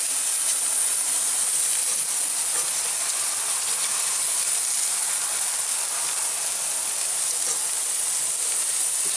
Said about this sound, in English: just say we flip these steaks and see how the other side looks